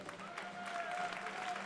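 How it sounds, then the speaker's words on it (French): Faint applause from a crowd at a French sport fighting gala, soft steady clapping at a distance under a thin tone, with no clear talk over it. "On applaudit encore Jean-François."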